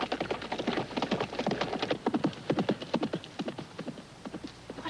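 A horse's hooves clip-clop in a quick, even rhythm at close range, loud and continuous with no voices.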